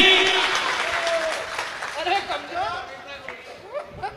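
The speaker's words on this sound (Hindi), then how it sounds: "आपकी तालियां, कमजोर तालियां कविता को कमजोर कर देगी।" Audience applause for a Hindi poetry recitation, loud at the start and tapering off, with voices and scattered chuckles coming through underneath.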